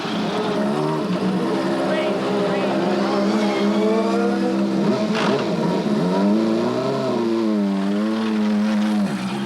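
An IndyCar race car lapping a track, its engine whining through rising and falling pitch sweeps as it accelerates and passes, loud and continuous, with a voice talking over it.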